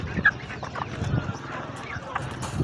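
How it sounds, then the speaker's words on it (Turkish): Chickens cluck and squawk in a busy poultry market in Kırıkhan, Hatay, Turkey, with a brief sharp call near the start and people talking in the background. "Çok güzel tavuklar gelmiş bugün."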